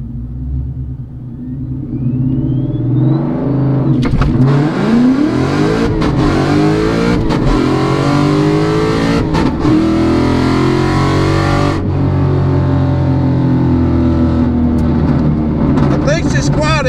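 Manual transmission Ford Mustang launching hard on a drag strip, a loud close engine roar that climbs and drops through several revving surges with sharp shifts, continuing steadily to the end.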